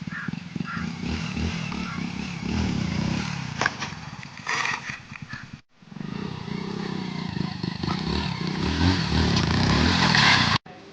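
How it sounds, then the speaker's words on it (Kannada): A motorcycle engine roars and revs hard nearby during a wheelie, dropping briefly before surging again to a loud, sustained whine. "ಇದು ಮತ್ತೊಂದು ಪ್ಲೇಸಿಗೆ ಬಂದಿದ್ದೀವಿ ವೀಲಿ ಹೊಡ್ಯೋಕ್ಕಂತ, ಬೈಕ್ ವೀಲಿ"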